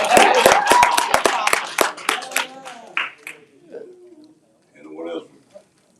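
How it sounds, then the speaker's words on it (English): Audience members clap at a city of Flint ethics and accountability board meeting, a short burst of sharp, closely spaced hand claps that fades quickly, followed by voices talking. "He deserves a applause"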